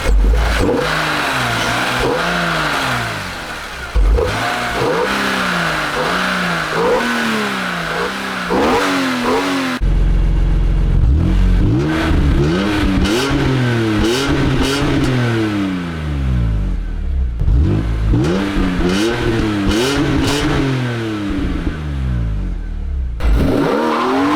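A BMW E46 M3 with a performance exhaust and deep, raspy note revs up and down repeatedly as it drives, loud and close, with shifting gears and rising pitch sweeps.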